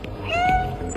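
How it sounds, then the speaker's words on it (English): A cat meows once, fairly loud and close, in a stealth video game where the meow can alert guards, with a faint ambient game background and no talk. "the meow button I had been incessantly pressing with no consequences up until that point"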